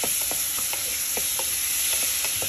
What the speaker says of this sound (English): Okay, now we can add our tomatoes.